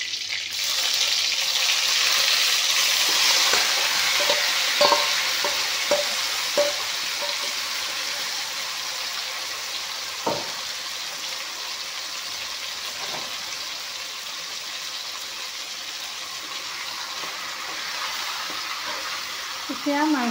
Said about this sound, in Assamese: এতিয়া মাংসখিনি ভালকৈ ভাজি ল'ম।